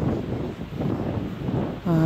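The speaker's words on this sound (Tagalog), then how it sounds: "tingnan nyo naman, lakas ng hangin" Strong wind blows on a Boracay beach, buffeting the microphone with a steady rough roar, and a voice starts talking right at the end.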